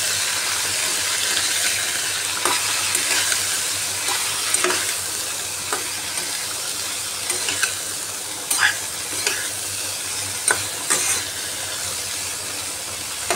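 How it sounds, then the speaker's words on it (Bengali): Potatoes and yardlong beans being stir-fried with spices in a pan, a steady sizzle broken by repeated scraping and stirring clinks, close and continuous with no talking. "আলু বরবটিকে ভালোভাবে কষিয়ে নিচ্ছি।"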